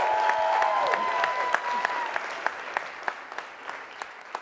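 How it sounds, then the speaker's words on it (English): Audience applause at a summit livestream's lightning stage: a steady wash of crowd clapping with a few sharp, louder claps near the microphone, briefly overlapped by a faint tonal whistle. "Please give them another round of applause."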